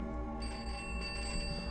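A telephone rings in a dark basement room of a house, a steady bell-like trill with dense harmonic buzz, faint and continuous with no talk over it.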